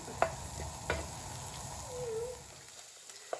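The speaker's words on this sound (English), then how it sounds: "So I'm frying this with garlic butter for some extra yumminess." Onions fry in garlic butter in a pan with a soft, quiet sizzle, broken by a few light clicks of stirring.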